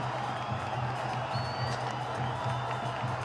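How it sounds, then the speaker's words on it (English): A cricket crowd cheers a wicket during a West Indies match, a steady wash of distant roaring and whooping with a low broadcast hum underneath. "Everyone in the crowd acknowledging that wicket."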